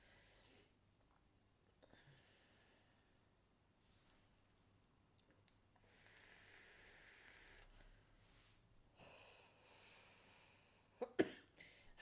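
A person with a sore chest coughs quietly now and then in a fairly still room, with a sharper, louder burst of coughing near the end.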